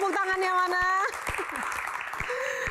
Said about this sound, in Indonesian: Lebih meriah lagi kita berikan tepuk tangan untuk bintang tamu kita